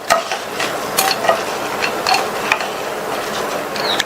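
Spices roast in oil in a pan over a medium flame, making a steady sizzle punctuated by sharp, close clicks and scrapes of stirring against the metal.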